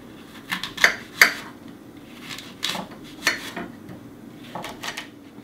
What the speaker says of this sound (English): I'm chopping it up very small so that it's going to be nice little chunks inside the apple pies.